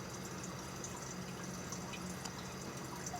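Water trickles and drips into a reservoir as a self-powered hydrautomat pump fills it through a tube, a soft, steady flow with faint drips and a low hum, fairly quiet throughout.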